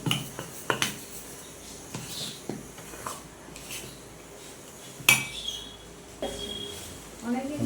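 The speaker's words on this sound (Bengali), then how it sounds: "এইভাবে একটু ফেটিয়ে নেব" A mixture is whisked by hand in a bowl as part of a home-cooked meal. Scattered clinks and scraping taps come at an uneven pace, close and moderately loud, with faint speech here and there.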